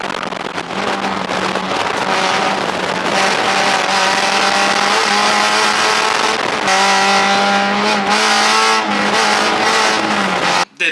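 A Toyota GR86 race car on Hoosier A7 tires runs hard on a track, its engine loud and close as it revs up through the gears, with brief lifts and a sudden cut at the end.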